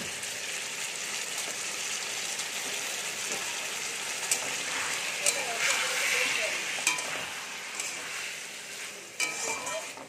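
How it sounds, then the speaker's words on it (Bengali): A spice paste of tomato, ginger, cumin, coriander and green chilli fries and is stirred in a pan, a close, steady sizzle broken by scraping strokes and occasional clinks. "পেস্টটা দিয়ে ভালো করে কষিয়ে নেব।"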